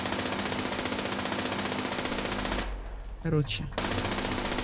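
Rapid machine-gun fire in the game Fallout 76 rattles loud and continuous, stops briefly while a voice speaks, then resumes at full intensity.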